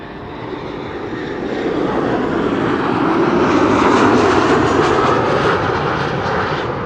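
Fixed-wing airliner landing at Amsterdam Schiphol Airport on a sunny day, a loud, close, steady engine roar that swells slightly and holds as it passes, with no talk.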